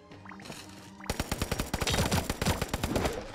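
Rapid automatic gunfire from the mobile shooter game Sausage Man, a loud close burst of quick repeated shots that starts after a quieter second and keeps firing to the end, with distinct sharp cracks in fast rhythm.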